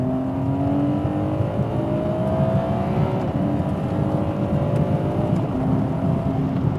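A car engine revs hard to about 4,250 RPM, running on normal P0 tyres in wet weather, a loud sustained high-rpm drone with a rising pitch, continuous and close throughout.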